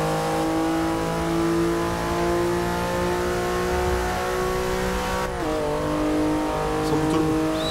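Porsche 911 Turbo S engine in the racing game Forza Motorsport 6 hums at a steady, loud pitch in third gear, then briefly drops and climbs again as the revs shift, with no talk over it.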